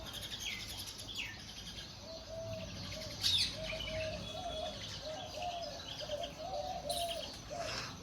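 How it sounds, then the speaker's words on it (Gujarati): Mynas and other birds call through a calm morning at a family home, a steady chain of chirps and coos carrying from a short distance, with a few sharper calls breaking through and no talk. "જો કેટલી બધી કાબર બેઠી છે"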